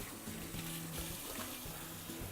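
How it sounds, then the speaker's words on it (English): Nebulizer parts are washed in warm soapy water with dishwashing soap at a sink, and a steady stream of running tap water splashes continuously with no talking. "the first step is cleaning the individual neb with warm soapy water"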